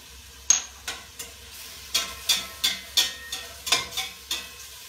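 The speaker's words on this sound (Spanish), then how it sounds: "Esto lo vamos a dejar freír por unos 15 minutos" Cauliflower stir-fry with ginger and tausi in a pan: a soft sizzle underneath repeated sharp scraping and tapping strokes of a utensil, about a dozen in a loose rhythm, close and fairly quiet.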